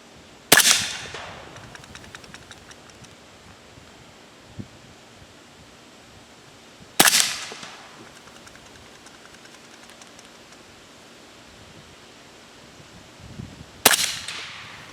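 A 300 Blackout rifle fires loads packed with polyfill, three sharp, loud reports spaced roughly six seconds apart, with faint rustling in between.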